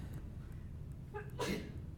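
A single sneeze breaks out in a quiet lecture room, one sharp burst over a low background hum with a faint intake of breath just before it.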